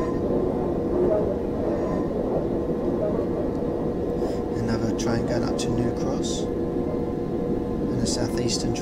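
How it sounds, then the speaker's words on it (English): A Southeastern train on the South London network rumbles steadily past nearby in a train simulator, a continuous low roar with occasional higher squeals and faint voices in the background. "Southeastern train going across."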